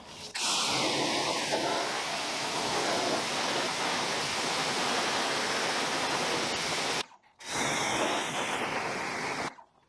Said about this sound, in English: I'm going to rinse it off, and then I'm going to foam it with W4 and then work the brush